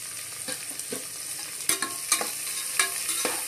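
Onions, salted and sautéing toward golden brown for a mushroom gravy, fry in a pan with a steady broadband sizzle, broken by several sharp scrapes and clacks of a stirring spoon against the pan.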